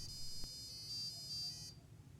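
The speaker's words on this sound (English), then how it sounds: "Let's turn off the Neopixels and just use the buzzer." A faint high-pitched electronic tone from a Robo Uno+ board's buzzer beeps in short on-off pulses for under two seconds over low background noise.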